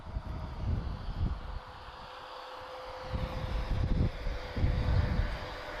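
Airbus A330 airliners taxiing at Lisbon Airport, a steady distant engine rumble with low wind buffeting against the microphone, swelling slightly toward the end.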